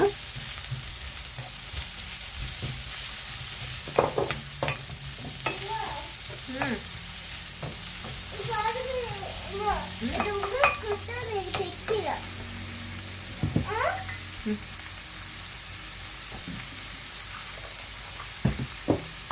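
Onions sautéing in a pan with a continuous low sizzle and intermittent stirring scrapes, while a voice talks over much of it.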